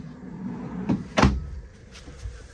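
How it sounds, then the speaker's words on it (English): A large storage drawer in a 2023 Roadtrek Chase Class B camper van is handled, giving two quick knocks and slides close by, with the second bump the loudest, over a low interior hum. "Got a really big storage drawer here."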